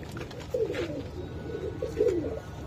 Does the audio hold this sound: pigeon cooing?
yes